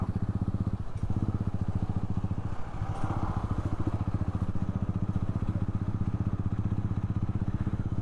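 A motorcycle engine runs steadily at close range with a rapid, even thudding pulse throughout, never pausing, with no speech over it.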